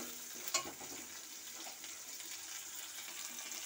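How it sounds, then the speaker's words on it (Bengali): Chopped tomatoes fry in oil for a Bengali milk curry of vola fish, giving a faint, steady sizzle with a brief clatter near the start. "টমেটো কুচিগুলোকে ভালো করে ভেজে নিতে হবে"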